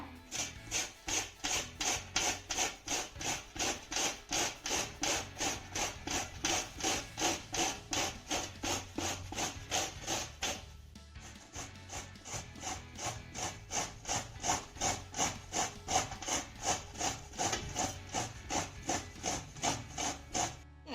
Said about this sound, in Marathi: त्यासाठी अशा मी मोठ्या होल असलेल्या किसणीचा वापर करणार आहे आपण आता हा भोपळा किसून घेऊया